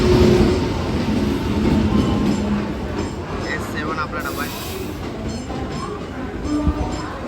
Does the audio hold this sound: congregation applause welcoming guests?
no